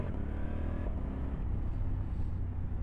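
A 2023 Honda CRF1100 Adventure Sports motorcycle pulls away, its engine a deep, steady rumble close up with a brief shift in pitch partway through, no voices over it.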